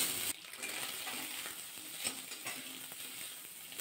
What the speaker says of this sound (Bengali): তেলের মধ্যে দিয়ে সয়াবিনগুলো একটু ভাজা করে নেব